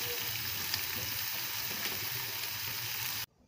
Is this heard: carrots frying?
yes